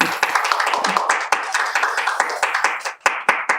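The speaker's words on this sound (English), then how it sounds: "Please give a big applause to Professor Corey." A room full of people clapping steadily, a dense patter of hands that holds at an even level throughout.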